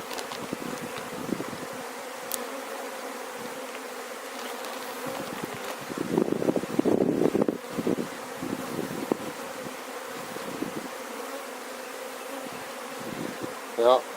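Honey bees buzzing at a hive during an inspection, a dense steady drone close by with individual bees swelling louder as they pass, plus occasional handling noises.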